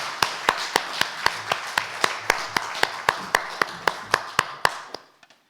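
A church congregation claps in unison during a Sunday worship service, with around eighteen sharp, evenly spaced claps in a steady rhythm that ends with a few scattered trailing claps.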